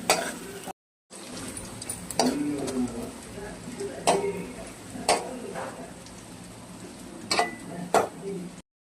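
Onions frying golden in a pan, giving a steady low sizzle broken by periodic sharp clacks of a spoon stirring against the pan, with a brief dropout near the start.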